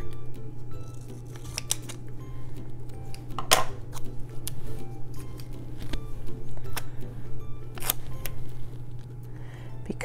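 Scissors snip paper while trimming a sticker or piece for a planner layout, a few short crisp cuts standing out over a steady low room hum, with no talking.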